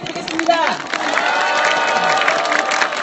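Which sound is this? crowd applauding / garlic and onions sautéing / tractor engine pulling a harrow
crowd applauding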